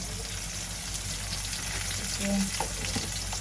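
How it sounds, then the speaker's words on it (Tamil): Curry leaves, onion and green chilli are tempered in hot oil in a home kitchen, sizzling and crackling steadily and loudly up close, with brief utensil stirring sounds. "போட்டு தாளிப்போம். நல்லா வதங்கட்டும்."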